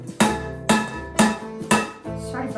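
Four sharp metallic knocks of a greased cake pan being tapped to shake out excess flour while preparing a Genoise sponge, evenly spaced about half a second apart, each ringing briefly, close and fairly loud with no talking.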